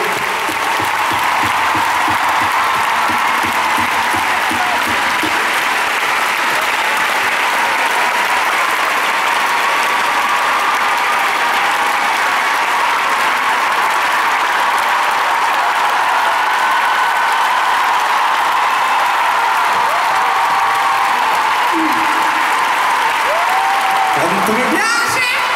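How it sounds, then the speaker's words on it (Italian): Sustained, dense applause from a large concert audience in an indoor arena in Bologna, a loud continuous roar of clapping that fills the space and swells near the end, with a few voices cheering within it. "L'applauso a voi."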